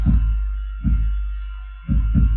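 Roland drum machine kick drum thumping on successive beats, four deep booming hits alone with uneven gaps, the low tone ringing out between them.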